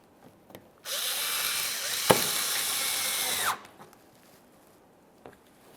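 A power tool drives an 8mm headed bolt into the shield of a 2014-2018 Mazda 3, one loud continuous whirring run of under three seconds with a sharp click partway, framed by near-quiet.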